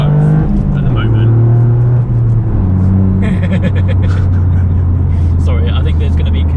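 A Toyota GR Yaris hot hatch with an aftermarket exhaust, its engine droning loudly at a steady pitch and then climbing as the revs rise, heard from inside the car with people talking over it.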